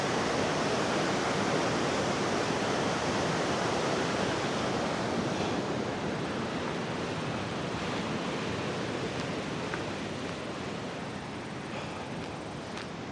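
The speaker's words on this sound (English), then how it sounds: "I think this is called Bubbs Creek, but I might be mistaken. Some serious power in that water." Bubbs Creek on the Pacific Crest Trail roars with powerful rushing water, a dense continuous wash of sound that stays loud and steady throughout, heard close with no other sounds on top.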